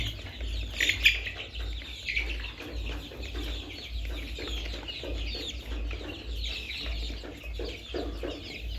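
23-day-old layer chicks, restless for water, cluck and squawk in a busy flock, steady overlapping calls with a few sharper cries near the start, close by.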